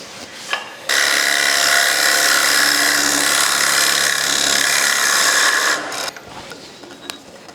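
A woodturning lathe cuts into a wooden platter, a steady loud scraping rasp running unbroken for about five seconds, with quieter workshop sounds before and after.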